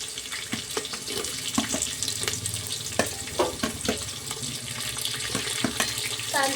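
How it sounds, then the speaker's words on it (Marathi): Chopped onion frying in hot oil for a vegetable pulao, a loud, continuous close-up sizzle that runs throughout, with intermittent scraping and clinks from stirring. "आता आपल्याला टाकायचे त्याच्यामध्ये कांदा"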